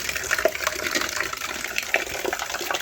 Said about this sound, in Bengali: এই যে এই বালতিটা ভর্তি হয়ে এসছে